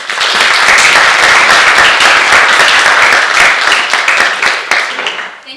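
Dense, steady applause fills a youth court graduation ceremony in Putnam County, a loud audience clapping throughout before tapering off near the end.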